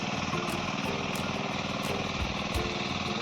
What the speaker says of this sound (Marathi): समोर बघा आमचे बंधुराज ट्रॅक्टर चालवत आहे.